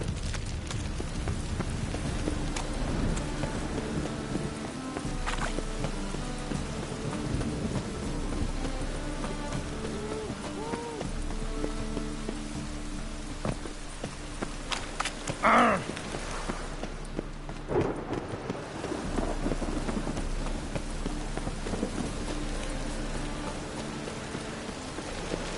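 Steady rain in The Witcher video game patters on surfaces throughout, with a brief louder knock midway and a low background hum.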